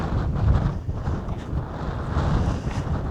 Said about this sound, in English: It's gotten all windy again today.